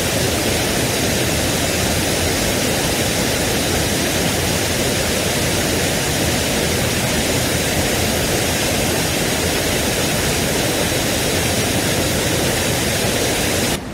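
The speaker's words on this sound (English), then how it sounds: "Okay, so I'm at the little waterfall now" Small waterfall with a constant, dense rush of falling water heard close and loud throughout, with no other sounds standing out.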